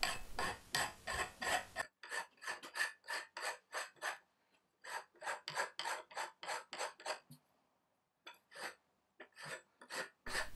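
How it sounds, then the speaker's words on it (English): Hand filing on the hardened metal rail of a home-built drill sharpener, heard as close, loud rasping strokes in quick rhythmic runs, broken by short pauses. "the material had hardened a little, so the initial filing was pretty tough going"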